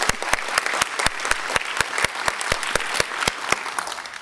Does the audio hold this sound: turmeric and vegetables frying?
no